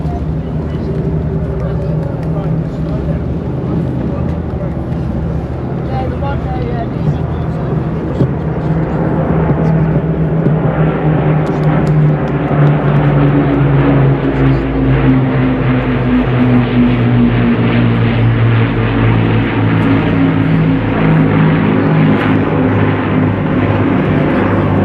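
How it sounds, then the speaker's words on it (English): Rolls-Royce Griffin and Merlin piston engines of warbird aircraft, including a Spitfire and a black Hurricane, drone steadily and loudly at the Blackpool Airshow 2025, with varying pitch as the planes pass, along with some crowd or commentary voices underneath. "let's soak up the atmosphere of these 1 Griffin, 5 Merlin engines"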